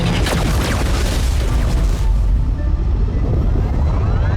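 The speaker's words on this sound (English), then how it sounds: "Blow up. Explosion." A loud, rumbling video game explosion booms near and full at the start, then decays into a long, roiling low rumble with scattered debris-like crackle trailing off.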